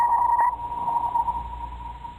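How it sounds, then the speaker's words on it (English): Navy sonar recorded underwater gives a steady, sustained high tone over low ocean rumble, with a brief burst of upper tones at the start, fairly faint and alone. "one of them is the sonar, which the Navy typically uses, for example, to detect enemy submarines"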